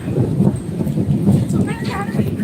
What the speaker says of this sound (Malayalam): ഇടി വെട്ടുന്നുണ്ട് വേറെ എങ്ങാണ്ട